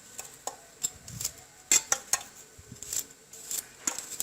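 Garlic is chopped into small pieces with a knife on a board for a sauce, giving a series of irregular, crisp close taps and clicks with brief pauses between them.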